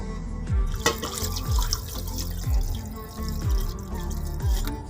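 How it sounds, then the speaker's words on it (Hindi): Water pours into a cooking pot holding half a kilo of potatoes and a kilo of cauliflower. It gives close, bubbling glugs in repeated surges with splashy drips, and no one speaks. "इसमें पानी ऐड कर देंगे,"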